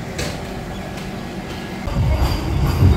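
A train pulls into a railway station in Ahmedabad, its low rumble and clattering wheels building louder toward the end of the short stretch, with station ambience behind.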